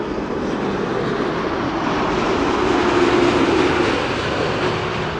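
An airplane landing at Amsterdam Schiphol Airport, a broad steady roar from the engines that swells slightly in the middle, heard from a distance outdoors.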